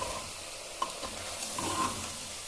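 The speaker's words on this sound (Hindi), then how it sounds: "ये देखिए इस तरीके से चम्मच से जो है अच्छे से मिक्स कर लेंगे।" Mutton pieces are mixed with spices using a spoon in a pan, giving soft scraping and stirring sounds over a faint sizzle.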